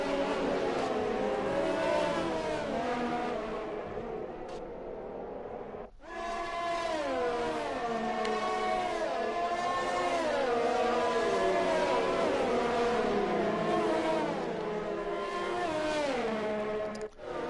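Several race cars idle and roll through a formation lap at the Singapore street circuit in a racing game, their layered engine drones shifting pitch steadily with a brief drop near the middle.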